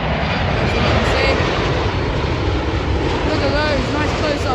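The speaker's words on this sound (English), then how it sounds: "British Airways Dreamliner, what a lovely plane, coming in for quite a chill approach" A British Airways Boeing 787 Dreamliner on a slow approach into London Heathrow roars as a loud, steady broadband jet rumble that fills the whole clip, with no break in the engine noise.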